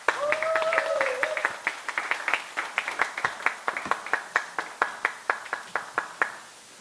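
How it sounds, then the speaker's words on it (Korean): Applause from an audience at the end of a lecture, starting as a dense crowd clap and thinning into a slow, steady rhythmic clapping that fades out, with a voice speaking briefly at the start. "다시 한번 큰 박수 부탁드리겠습니다"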